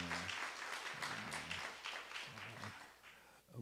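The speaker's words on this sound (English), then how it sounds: "Let's give her a round of applause one more time." A church congregation at First Missionary Baptist Church gives a dense, sustained round of applause. The clapping is fairly faint and distant, with some low tonal sound underneath.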